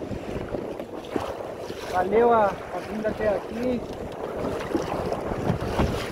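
Steady wind roars across the microphone on a small sailboat crossing near a beach and lighthouse, with a continuous broadband rush beneath someone talking.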